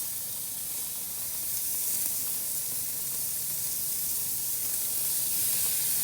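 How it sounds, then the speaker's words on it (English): Onion burgers sizzle on a Weber Q 1200 gas grill, a steady, loud, close hiss of frying fat that holds evenly throughout without talk. "Nice sizzle going on there."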